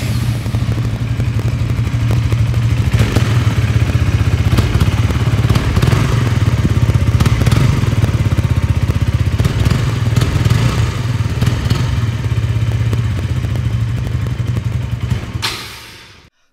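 A KTM Duke 200 motorcycle engine runs steadily after being self-started, a loud, close, continuous thumping idle that holds throughout and then cuts off abruptly near the end.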